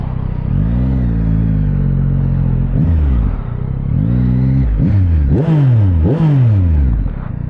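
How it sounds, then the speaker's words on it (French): A Yamaha MT-09 motorcycle loudly revs and accelerates away at a riding skills course, its engine note climbing through several sharp gear pulls up close with no talk. "je vais ramener la petite moto euh, là-bas"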